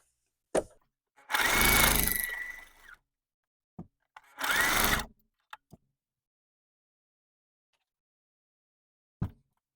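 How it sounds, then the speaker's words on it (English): A sewing machine stitches quilt fabric pieces in two short runs of rapid mechanical whirring, each lasting about a second, separated by quiet and a few light clicks and taps nearby. "I'm going to sew it to this panel here. And just sew it straight down."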